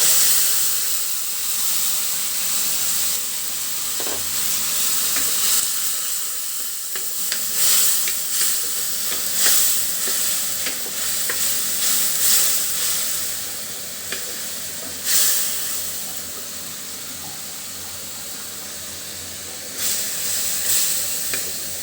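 Spice paste frying with onions and green chillies in a pan for a tomato fish curry, a steady close sizzle broken by scraping stirs and occasional sharper spatters, with no talking.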